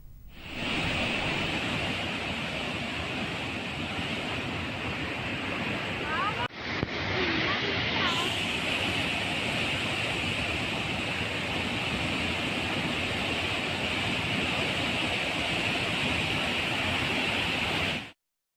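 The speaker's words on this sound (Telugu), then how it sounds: "కుంటాల జలపాతంలోనూ భారీగా నీరు చేరడంతో పరవళ్లు తొక్కుతోంది." Kuntala waterfall in Telangana, swollen after heavy monsoon rains, roars as a loud, continuous broadband rush of falling water with a brief break partway through, no speech heard.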